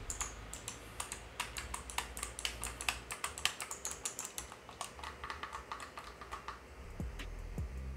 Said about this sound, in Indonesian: L1, L2, R1, R2-nya semuanya pakai klik yang benar-benar kayak kliknya mouse kalau kalian coba dengerin ya